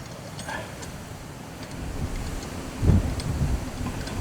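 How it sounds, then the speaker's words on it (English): Blustery wind rushes and rumbles against the microphone, with a low gusty thump near the end, outdoors with no voices. "Oh, it's become windy."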